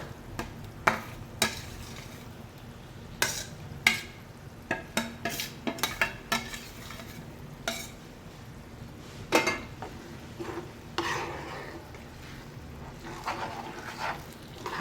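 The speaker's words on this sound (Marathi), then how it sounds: "आता आपण 2 ते 3 मिनटं परतून घेऊया." Ground chilies sautéing in a pan for Schezwan chutney: a low steady sizzle under repeated scraping and clinking of a spoon against the pan, with irregular sharp knocks throughout, fairly quiet and close.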